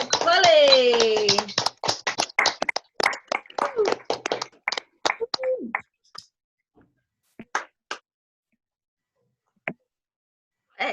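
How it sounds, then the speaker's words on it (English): On a Zoom open mic call, a voice speaks first, then scattered individual claps and taps from a few participants follow, sparse and uneven, thinning out into silence with isolated late claps. "Can we get another massive round of applause for Polly?"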